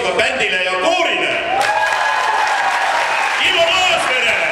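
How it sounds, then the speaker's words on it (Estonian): An audience at a televised contest event applauds a band and choir, with clapping and crowd cheers partly under a loud announcer voice and ringing music. "teeme suure aplausiga bändile ja koorile."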